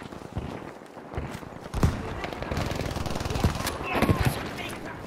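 Battlefield V gunfire, rapid bursts of close and distant shots scattered across a few seconds of busy battlefield noise, with voices talking in the background.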